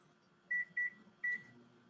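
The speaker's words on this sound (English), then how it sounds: "You're going to go to your home microwave, you're going to put it in, and you're going to cook it for just 1 minute" Home microwave oven beeping three times, clear high electronic tones in a short evenly spaced run, against a quiet kitchen with a faint hum beneath.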